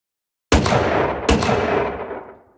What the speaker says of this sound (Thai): เสียงปืนดังขึ้นมาสองนัด